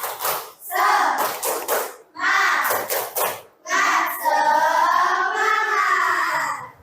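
Schoolchildren in a sixth-grade classroom chant a rhythmic 'tepuk semangat' clapping cheer, loud and close, with bursts of sung chanting between groups of claps and a long sustained final chant.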